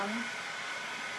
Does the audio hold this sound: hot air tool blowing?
yes